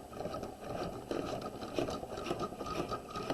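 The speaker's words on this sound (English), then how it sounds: "we're going to put our machine on the basting stitch" A sewing machine runs a long basting stitch along a garment collar, its needle and motor giving a steady, rapid mechanical chatter close up, with slight changes as the fabric is turned.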